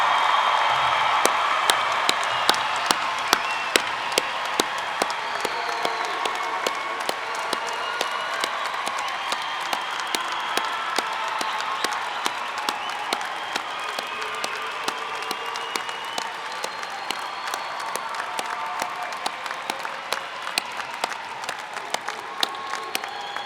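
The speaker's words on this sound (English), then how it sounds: "One more round of applause for the class of" A commencement crowd of the Thomas Nelson Community College class of 2015 gives a long, sustained ovation, dense clapping with scattered cheers and whoops, loud and steady throughout before easing slightly near the end.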